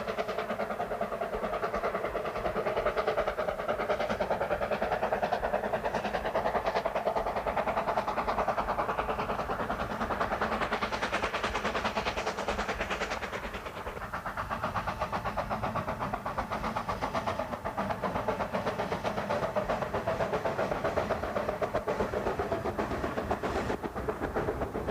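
A narrow-gauge steam train climbs high above a valley floor on the line to Devil's Bridge, its steady engine rumble and rolling wheel noise continuous and fairly loud throughout, with no talking.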